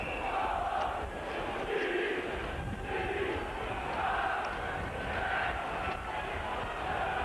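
Crowd at a Hull KR rugby league match at Craven Park on a mild, very blustery evening, a steady broad roar with rising and falling surges and wind noise throughout, no clear talk.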